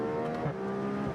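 A 2021 BMW X3 M40i engine accelerates in a brief, loud, close burst, its strained tone sweeping upward as the revs climb.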